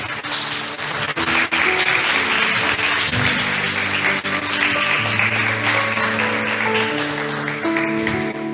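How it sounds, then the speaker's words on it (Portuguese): A church congregation applauding during a Portuguese-language worship service, steady sustained clapping over held organ or keyboard chords that continue throughout, fairly loud and even. "Você pode aplaudir ao Senhor?"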